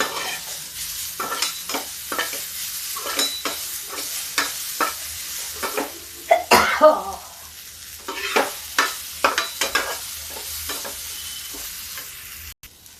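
Okra cooking in a hot pan on a switched-off gas stove, with salt added: a steady sizzle runs throughout, broken by a series of short scraping stir strokes and a louder burst of frying partway, with no talking.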